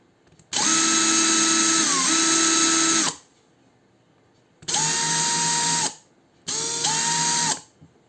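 An Ibell cordless screw and drill machine drives a screw in three loud whirring bursts, the first longest with a pitch dip as the motor loads, followed by two shorter runs separated by pauses.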